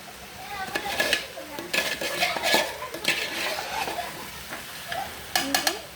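Rice for pulao being stirred in a pot with a metal spoon: irregular scraping and clanking strokes against the pot over a steady sizzle, with a faint voice in the background.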